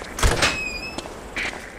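A door opens in Medal of Honor: Allied Assault with a short sequence of thuds and a creaking, squealing hinge tone, followed by a softer closing knock, fairly close and alone.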